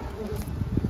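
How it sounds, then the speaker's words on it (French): Wasps buzzing around a compost bin, close and fairly loud, with a low droning hum that swells in bursts over the short span. "on voit les guêpes qui essayent de me rentrer dedans"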